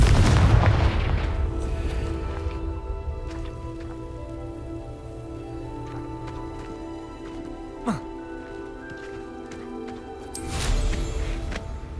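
A Confringo explosive spell cast in the Hogwarts Legacy video game bursts with a loud boom at the start, followed by a long crackling, rain-like rumble and scattered sharp hits, with a second heavy burst near the end.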